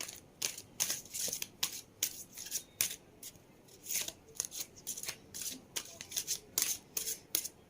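Tarot cards shuffled and drawn by hand in a quiet room, a steady run of crisp riffling flutters and snaps, fairly close, with no talking.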